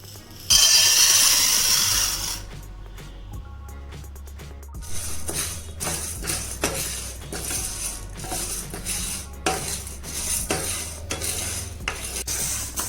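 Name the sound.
dry frying tur dal in pan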